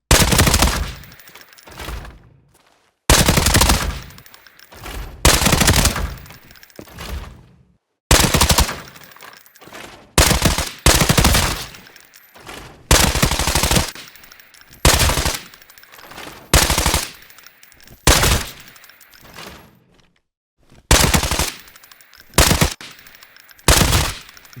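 Bursts of automatic gunfire from a new weapon in the shooter game Arena Breakout Infinite, about ten loud, rapid volleys of two seconds or so each, separated by brief silences, with no talking.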